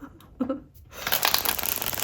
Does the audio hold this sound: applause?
no